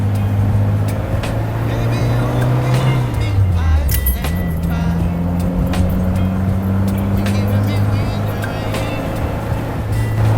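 An MG Midget MkIV British roadster drives along at a steady pace. Its engine drones continuously, with a brief dip and rise in pitch partway through, while people talk over it.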